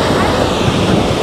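Strong ocean surf at Long Branch beach on the Jersey Shore, a steady broadband roar of breaking waves with wind buffeting the microphone, continuous and close throughout.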